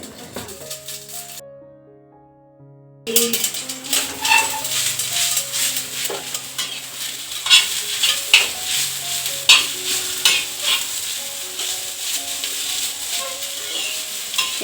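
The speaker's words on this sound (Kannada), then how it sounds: "ಅದೇ ಒಂದು ತವ ಮೇಲೆ ಒಗ್ಗರಣೆ ಹಾಕ್ತಾ ಇರೋಂಥದ್ದು ಸೊಪ್ಪಿಗೆ" Cumin, garlic and onion temper for greens on a flat tawa, a steady close sizzle with scraping stir rattles that starts abruptly after a few seconds of soft tonal music and carries on unbroken.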